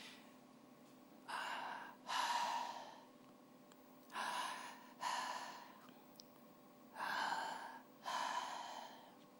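A voice imitates heavy, labored breathing: six long, loud breaths in pairs, each a drawn-out rasping inhale or exhale separated by brief pauses, close to the microphone over a faint steady hum.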